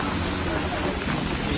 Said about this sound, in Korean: 비가 많이 오고 있네요.